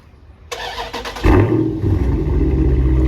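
An SRT car with its mid-muffler deleted starts up warm, a brief starter whir then a loud deep bark as the engine catches and settles into a rumbling idle close by.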